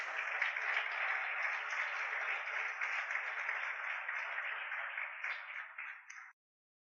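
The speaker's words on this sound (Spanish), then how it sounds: "Aplauda a Jesús" A church congregation breaks into sustained applause at a pastor's urging during a Spanish-language sermon, a dense, steady wash of clapping that holds for several seconds and then tapers off and cuts out.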